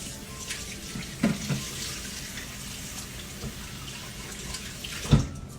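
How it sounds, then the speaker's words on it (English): Tap water runs steadily at a sink as hands are washed after handling raw eggs while making crepes, a soft continuous splash with a few brief louder bumps and clatters. "after I use eggs or I touch raw eggs, I'm gonna wash my hands"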